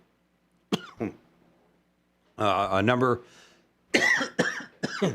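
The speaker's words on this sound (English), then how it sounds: "We'll let him cough over there." A man coughs sharply a couple of times, then a longer harsh throat-clearing cough, followed by a few more coughs close to the microphone.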